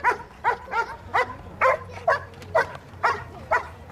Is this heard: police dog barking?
yes